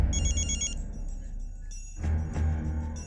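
A telephone rings with a bright electronic trill, then a short pause before another ring, fairly close, in a crime drama scene.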